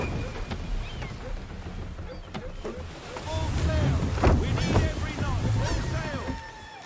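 Sailing ship from Assassin's Creed III cutting through water, with a steady wash of wind and sea rising in the second half, creaks and high whistling calls overhead, and voices speaking over it.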